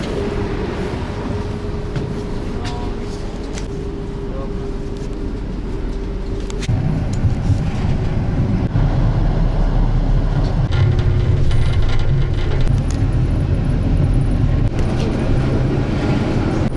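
Warsaw street traffic with trams passing, a continuous low rumble of vehicles and rail cars that swells louder partway through, with no talk over it.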